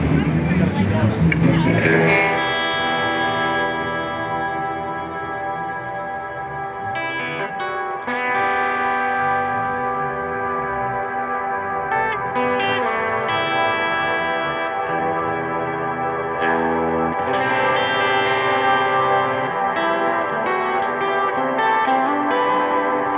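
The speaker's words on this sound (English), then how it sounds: "you basically just carry the reverb tail on infinitely" Sustained, shimmering guitar chords through a reverb pedal on its infinite setting swell and hang in a dense reverb wash that never fades, new notes layering over the endless ringing tail.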